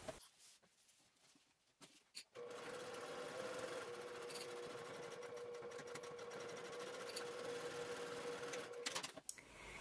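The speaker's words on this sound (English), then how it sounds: "you'll take this over to your sewing machine and you'll start and stop sewing at the half inch marks with 3/8 inch seam allowance" A sewing machine stitches a seam between half-inch marks, starting after a couple of seconds of faint handling noise and then running in one steady, quiet, continuous whir.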